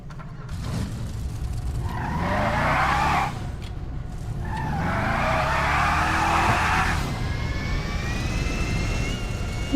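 A sheikh's car drives past with two long, loud tire skids over a steady engine drone, heard up close. A rising whine follows near the end.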